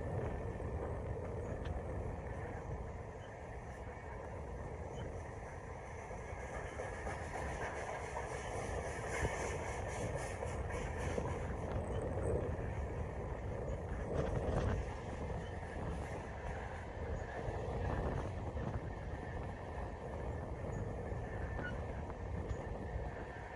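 CN grain train freight cars rolling past under a bridge in Winthrop, Iowa, a quiet, steady rumble with faint wheel noise and wind, continuous and low throughout.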